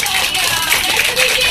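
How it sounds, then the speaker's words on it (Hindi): A school audience gives a short burst of loud clapping for a nursery children's performance, a dense, close patter of hands mixed with some voices in the crowd. "एक बार उनके लिए जोरदार तालियां बजा दीजिए"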